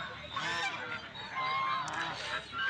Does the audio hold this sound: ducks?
yes